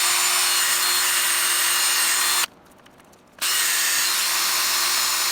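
A DeWalt cordless power tool polishing an aluminum motorcycle motor gives a loud, steady high whine. It cuts out for about a second, then resumes at the same pitch, with no voices.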